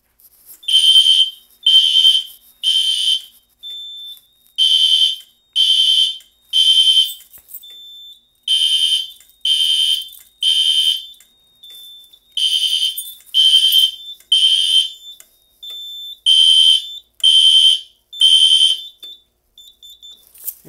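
A vintage ADT fire alarm sounds on a Simplex 4010 panel, repeating loud piercing electronic beeps in groups of three with short pauses, close and continuous, with a faint steady tone between bursts.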